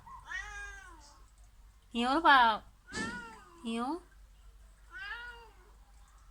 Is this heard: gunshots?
no